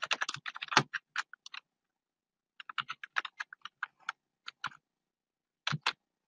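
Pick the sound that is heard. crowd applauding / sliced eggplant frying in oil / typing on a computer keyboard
typing on a computer keyboard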